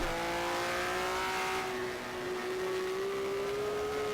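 A race car engine in the rFactor sim racing game holds high revs, its steady tonal whine rising slightly in pitch as the car pulls through the gear, loud and continuous.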